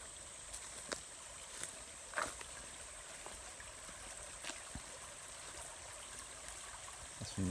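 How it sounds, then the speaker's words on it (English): Spencer Creek flows steadily near a backpacking camp in the Uwharrie area, a continuous soft rush of water with a few faint clicks and knocks over it and no talking. "the creek's right back there."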